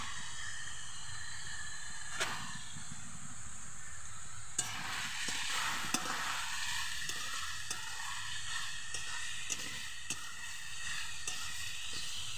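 Chopped banana flower (mocha) with ginger fries in a pan for a Bengali mochar ghonto. A soft, steady sizzle hisses throughout, broken by repeated light scrapes and clicks of stirring, quiet and close with no talking.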